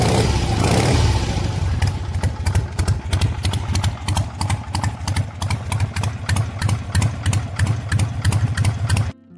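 An early Harley-Davidson Sportster XLCH motorcycle engine idles loudly nearby in a rough, lumpy rhythm of regular exhaust pulses that settles in after a brief revving start and runs for several seconds.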